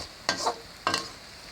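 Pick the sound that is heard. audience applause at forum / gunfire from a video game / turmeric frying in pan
turmeric frying in pan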